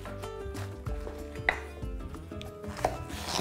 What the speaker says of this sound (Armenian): Կտրատում ենք ժապավենների։